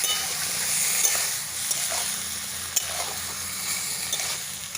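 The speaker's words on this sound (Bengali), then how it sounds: "সেদ্ধ করে রাখা তরকার ডালটা ঢেলে দেবো।" Boiled dal pours into a hot tarka in a pan, giving a steady bright sizzle and hiss with soft stirring and liquid movement throughout, close and moderately loud with no talk.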